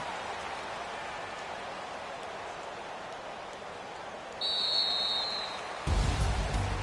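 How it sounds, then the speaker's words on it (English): Rain falls steadily during a Browns vs Ravens NFL football game, a soft, even hiss heard at a distance, with a brief higher tone and a louder low rumble joining near the end. "Well, Charles, the forecast called for rain throughout the entire game, and we got rain throughout the entire game"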